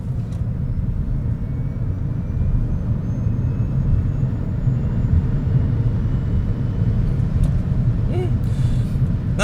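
Low steady road and wind rumble inside a 2025 Honda e:N1 electric car accelerating from 90 km/h, a continuous muffled drone with faint electric whine and no sharp events.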